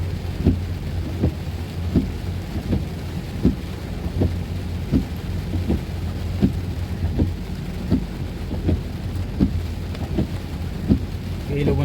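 Steady heavy rain falls on a surface with rumbling thunder, and regular thumping pulses recur about every half second through the downpour, loud and continuous.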